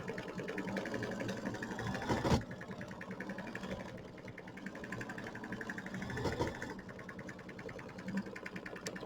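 Embroidery machine sewing a tack-down line on a raw-edge applique for a Kimberbell mini quilt, a continuous rapid mechanical stitching whir with fine rhythmic ticking, steady and close.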